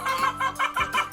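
A hen clucks in a quick series of four or five short, close, nasal calls, each pulse rising and falling in a choppy rhythm.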